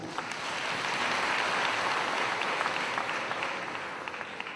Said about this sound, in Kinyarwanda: Haleluya, tubahe amashyi.